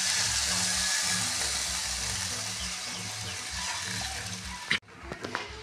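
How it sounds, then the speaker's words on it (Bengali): Water poured into a pan of bitter gourd and potato curry brings a steady rushing hiss that cuts off abruptly near the end, followed by a few light clinks. "এখন জল দিয়ে দেবো।"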